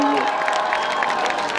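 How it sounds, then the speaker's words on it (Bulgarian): Crowd applause and cheering at an outdoor Christmas lights celebration in Burgas, Bulgaria, a steady wash of clapping and voices under someone speaking. "Благодаря ви за аплодисментите."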